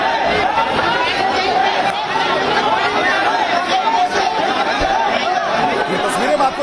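Dense, continuous babble from a large crowd of protesters packed around Surya's home along a narrow lane, many voices overlapping loudly and close throughout with no pauses.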